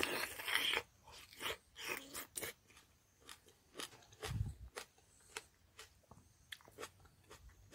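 Crisp bites and chewing of fresh, sweet homegrown tomato, a series of sharp crunchy bursts close to the mic with quieter mouth sounds between, and no talking.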